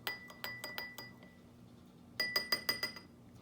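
Face serum being mixed in a small glass bottle, with rapid bright clinks and taps of glass on glass in two quick bursts separated by a short pause, close and fairly quiet.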